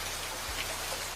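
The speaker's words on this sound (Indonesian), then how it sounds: "Namun sudah beberapa jam masih saja tetap hujan." Steady rain falls in an even, dense hiss with a soft patter of drops, constant and unbroken throughout, with no voices.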